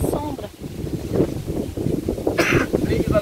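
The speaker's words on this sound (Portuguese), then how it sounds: "Nossa, tá com vento" Outdoor wind in a shady natural spot gusts and rumbles across the microphone, steady throughout, with people talking over it and a brief brighter rush near the end.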